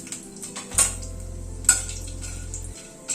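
Peppercorns, a bay leaf, cinnamon, cracked cardamom and cloves sizzle faintly in hot oil for tempering, with occasional sharp ticks and pan clinks over a low steady hum.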